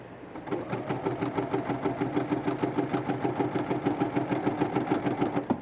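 A Bernina sewing machine with an edgestitch foot stitches a narrow hem, running in a fast, even, rhythmic chatter of needle strokes close up and uninterrupted.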